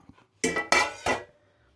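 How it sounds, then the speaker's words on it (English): Sauce scraped around a pan with a utensil: three short, close scraping strokes of metal on the pan within a couple of seconds, each a brief rasp followed by quiet. "just have a little scrape around"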